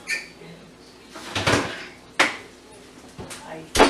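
Oven door and a metal pan of meatballs clatter in a home kitchen, with several sharp knocks and scrapes spaced over a few seconds, close and fairly loud, alongside faint background voice.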